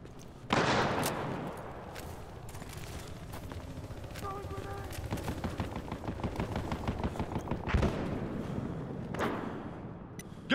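Heavy Battlefield Hardline gunfire on a Conquest map: rapid automatic bursts and sharp single shots crack in dense volleys, with a few louder blasts standing out over a constant battle din.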